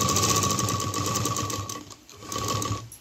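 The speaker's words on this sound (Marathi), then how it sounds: "तर आता इथे सुद्धा डबल शिलाई करून घेते." A sewing machine runs continuously, double-stitching a small cloth dhol bag, with a steady close whirring drone that briefly slows and dips before picking up again.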